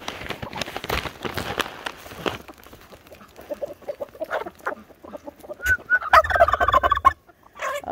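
A mixed farm flock of ducks, chickens and Muscovies clucks, gobbles and scuffles nearby in busy bursts, with feet pattering and a few sharper calls rising toward the end.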